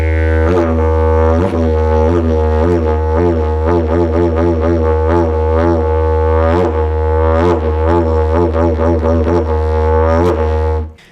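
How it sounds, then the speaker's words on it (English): A didgeridoo plays a steady low drone with rhythmic diaphragm breath accents, producing a pulsing series of sharp, repeated bursts over the continuous tone. It sounds loud and close throughout, then cuts off at the end. "when you use your diaphragm in a wind instrument like the didgeridoo, you can make a short outtake of air and make sounds like this."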